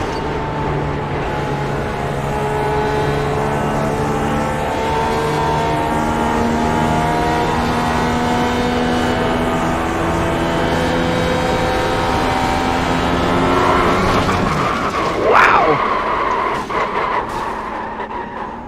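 Simulated race car engine in iRacing at Indianapolis Motor Speedway, damaged car running a steady high whine with layered harmonics that shift pitch, then a sharp rising rev burst near the end.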